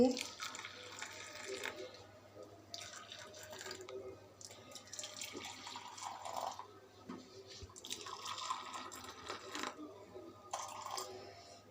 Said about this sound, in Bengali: বিকেলের গরম গরম চা হয়ে গিয়েছে আমার, এখন আমি ঢেলে নিচ্ছি।